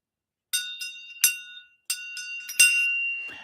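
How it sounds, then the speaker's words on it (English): A shang, a Tibetan flat bell used in Chöd meditation practice, is struck six times at an irregular pace. Each strike gives a bright, clear metallic ring, and the last one hums on the longest. "the shang bell"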